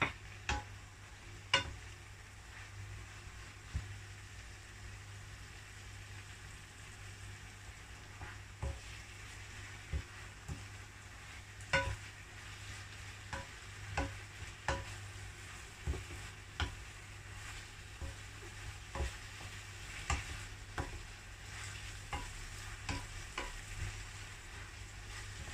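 Pork with holy basil stir-fried in a pan for pad gaprao: a steady close sizzle with frequent sharp spatula scrapes and taps against the pan, continuing throughout with no talking.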